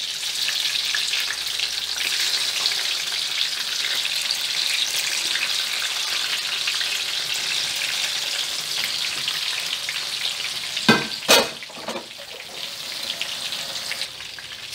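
Tomato fries in a pan used for Persian meat patties, making a steady, fairly loud sizzle throughout, broken near the end by a few sharp clatters and scrapes from stirring or the pan.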